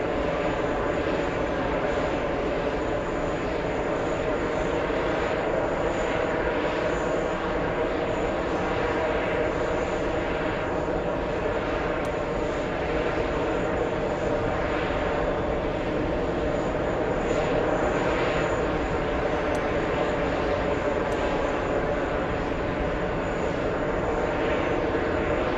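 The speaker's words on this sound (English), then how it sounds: "We have a 777 EVA 32 flying in from Taipei," An EVA Air Boeing 777 arriving from Taipei roars steadily as it comes in to land, a continuous broad engine rumble that holds for the whole stretch with no clear rise or fade.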